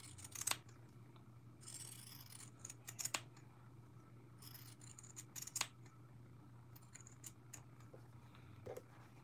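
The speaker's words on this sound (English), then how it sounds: "now I'm going to use my pinking shears to cut so that I don't have a bulk around the front" Pinking shears cutting fabric for a face mask, a series of crisp close snips in irregular bursts, some rapid and some spaced apart, over a quiet background hum.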